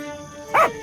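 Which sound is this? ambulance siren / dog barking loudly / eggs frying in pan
dog barking loudly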